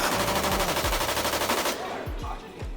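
Rapid automatic gunfire from the video game Call of Duty rattles in a fast continuous burst, followed by a few separate heavy shots, loud and dense, heard through game audio with no clear talking.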